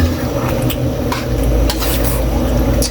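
Chicken dinuguan being stirred in a cooking pot, with a steady wet squish and sizzle and a spoon scraping against the pot, close and continuous throughout with no talk.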